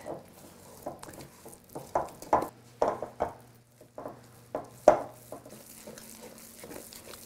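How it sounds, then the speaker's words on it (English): A spoon stirs cocoa into gluten-free chocolate nut cake batter in a bowl, producing irregular soft scrapes and dull knocks against the bowl sides over a quiet background. "Just stir that until it's well combined."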